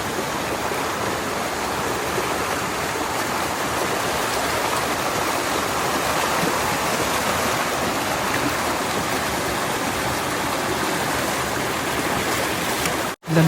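Flowing mountain river where people bathe, a steady broadband rush of water close by with no break, cut off by a sharp knock at the end.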